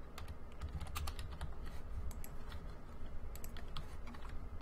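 Quiet, steady clatter of fingers typing on a computer keyboard: rapid irregular keystrokes that run for several seconds, close up and alone.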